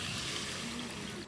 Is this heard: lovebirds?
no